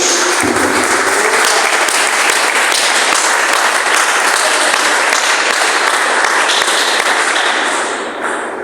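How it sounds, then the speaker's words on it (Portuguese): A church congregation bursts into loud, dense applause, a continuous roar of many hands clapping close by that holds steady for several seconds before easing slightly at the end. "dê uma salva de palmas bem alegre para Jesus"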